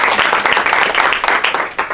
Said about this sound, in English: We clap again.